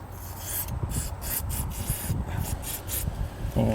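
A trailer tow bar's pivot joints being worked back and forth after a dry silicone spray, giving quiet, rhythmic rubbing and scraping strokes of metal on metal, close up with no talking.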